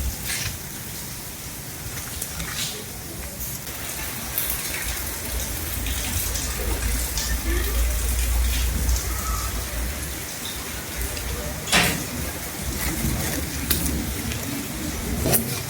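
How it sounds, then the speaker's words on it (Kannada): Heavy rain falls after an hour-long downpour, a dense continuous hiss of drops close around, with a low rumble like passing traffic in the middle and a few sharper splashes toward the end. "ನೋಡ್ರಿ ಮಳೆ ಒಂದು ತಾಸೊಳಗೆ ಆಗಿರುವಂತಹ ಮಳೆ ನೋಡ್ರಿ"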